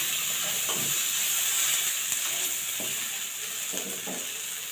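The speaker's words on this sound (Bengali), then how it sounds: "দিয়ে দেব টমেটো কুচি আর দিয়ে দেব 2টা কাঁচা লঙ্কা দিয়ে হালকা হালকা ভেজে নেব।" Chopped tomato and two green chilies fry gently in a pan, giving a steady close sizzle and hiss broken by a few scraping stirs.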